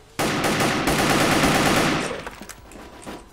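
A rapid, continuous burst of automatic fire from the Scar WKS rifle in the video game Wolfteam rattles loud and close for about two seconds, then cuts off into quieter scattered shots and faint background noise.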